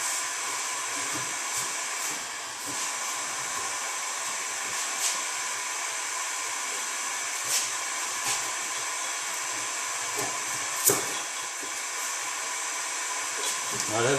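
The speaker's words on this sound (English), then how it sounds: "got the heat gun all the way up" A heat gun set to full power blows hot air onto glue on a 2013 Honda Accord EX-L body panel, making a steady loud hiss with faint clicks and knocks over it.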